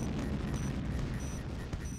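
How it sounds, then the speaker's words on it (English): Dense rumbling bombardment of tank shell fire and explosions in the Command & Conquer video game (N64 GDI missions), a continuous low booming barrage with no speech. "I love the combined sound of a dozen tank shells firing at once. Really sounds like a true bombardment."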